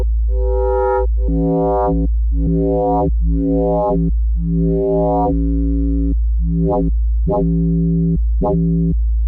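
Analog oscillator tones from a WMD Legion Eurorack module, played as a series of sustained harmonic drone notes, longer gated tones at first, then shorter bright blips toward the end, over a steady low hum.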